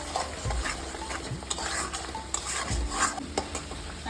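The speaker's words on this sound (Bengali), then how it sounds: "এবার শাকটা অনেকটা ভাজা হয়ে গেছে।" Spinach stirred and fried in a pan for palak paneer, a constant close sizzle with repeated spatula scrapes and light clinks of utensils against metal, no speech.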